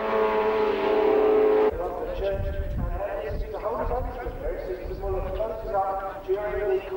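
Formula 2 race cars from 1992 at Thruxton circuit winding up to full speed, flat in fifth gear, a sustained engine drone and rising revs under continuous commentary.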